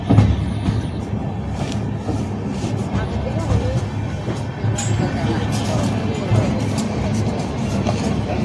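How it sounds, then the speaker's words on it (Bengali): The Radhikapur Express sleeper coach rolls into Naihati station with a continuous low rumble of the train, mixed with station crowd babble and voices nearby. "ট্রেন এখন এসে পৌঁছে গেছে নৈহাটিতে"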